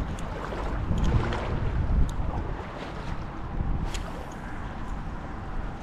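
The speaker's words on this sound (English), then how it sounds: "This is our plan B spot, because the wind today is whipping." Strong wind of about 30 mph on a fishing boat over grass flats roars and buffets the microphone steadily, with low rumbling gusts and faint water noise underneath.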